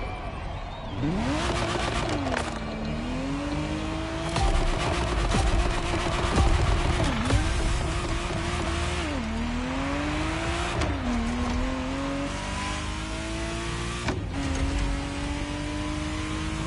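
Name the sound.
Ferrari Testarossa engine revving in video game The Crew Motorfest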